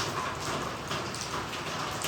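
Steady rain falls at night during a power outage, a dense, even hiss of drops hitting surfaces nearby with no voices.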